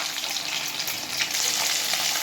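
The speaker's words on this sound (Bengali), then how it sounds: "খুব হালকা করে মাছটাকে ভেজে নেওয়া হচ্ছে।" Pieces of katla fish fry lightly in oil in a pan, giving a close, bright, steady sizzling hiss that continues without a break and has no voices over it.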